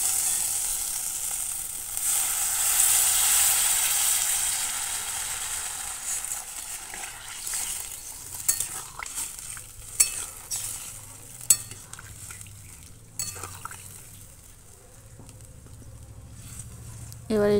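Water poured into a frying potato and pointed gourd curry sets off a bright hiss that fades, followed by a few sharp utensil clinks and scrapes as it settles to a quieter simmer.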